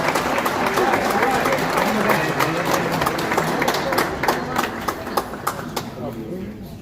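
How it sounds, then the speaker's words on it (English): Crowd applause at an outdoor Kosovo Independence Day celebration in New York City, a steady wash of clapping from a large audience with cheering voices mixed in, fading slightly toward the end. "please give a round of applause to the one and only Honorable March United"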